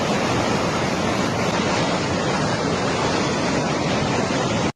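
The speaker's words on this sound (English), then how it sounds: "look at this flash flood going through" Flash flood water from a water bomb rushes past in a dense, roaring torrent, a loud and unbroken broadband wash that holds steady throughout with no voices.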